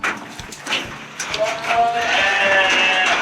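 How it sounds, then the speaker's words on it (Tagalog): Sheep bleating at a farm in Bulacan with goats nearby, several wavering bleats overlapping close by and getting louder toward the end, with people talking in the background. "Ilang boses rin pala ng mga sheep."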